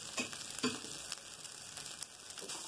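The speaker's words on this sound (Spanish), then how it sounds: "vamos a sellar nuestra cebolla china" Chinese onion searing in a hot wok for Peruvian chifa-style aeropuerto with chicken, a soft steady sizzle with a few brief crackling bursts, fairly faint and close, with no talking.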